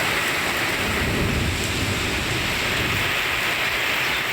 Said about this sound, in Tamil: சிவகங்கை மாவட்டம் மானாமதுரை, திருப்பாச்சேத்தி சுற்றுப்புற பகுதிகளிலும் பலத்த மழை பெய்தது.